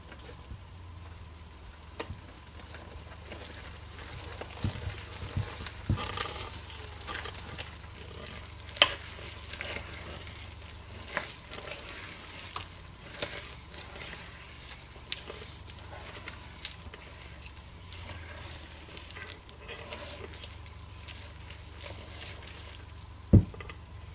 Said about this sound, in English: And I hand mix all my dough.